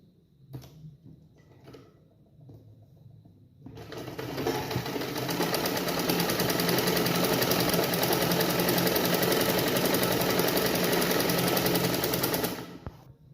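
Sewing machine stitching a blouse collar runs in one steady, loud continuous burst after a few quiet seconds with faint handling sounds, then stops near the end.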